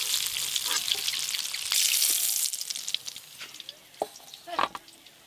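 Capsicum lightly frying in a pan with turmeric powder for an egg curry: steady hissing sizzle, louder early on, then quieter crackles and sharp stirring clinks and scrapes near the end.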